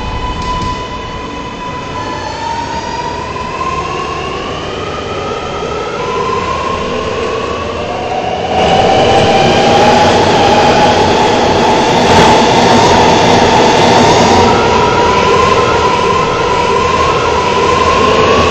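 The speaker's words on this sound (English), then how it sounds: "This is a Gatlin-bound R local train." New York City Subway R211 train on the R local line running between stations, a steady loud rolling rumble with rising whining motor tones and squealing harmonics that swell midway as the train speeds up, no voices.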